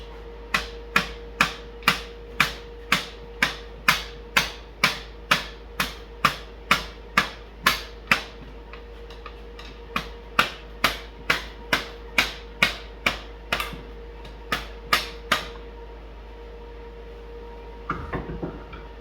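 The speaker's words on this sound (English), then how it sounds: "Hammers are my best friend with this project." A hammer strikes parts of a ZR 900 motorcycle project in a steady, evenly spaced series of about two dozen sharp metallic blows, close and loud, pausing briefly partway, then stopping near the end.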